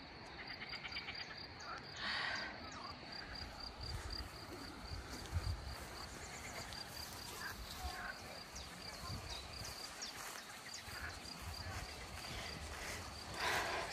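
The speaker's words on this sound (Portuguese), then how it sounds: "Oh, estão a ouvir as rãs?" Frogs and insects calling outdoors around rainwater puddles, a steady chorus of chirping and croaking with a continuous high trill, fairly faint, with occasional speech over it.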